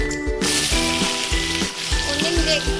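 Cut potatoes hitting hot oil with whole garam masala, dried red chillies and cumin, a loud dense sizzle bursting up at once and holding strong, with a low hum beneath.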